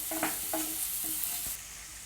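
Chilli sauce and tomato sauce being stirred in a frying pan, with a few soft scraping strokes over a steady, quiet sizzle and no talking.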